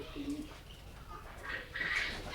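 Pigeons at a farm of local and foreign breeds in Bakshiganj, Jamalpur give faint, low calls over a hushed background, with a brighter chirp-like burst near the end.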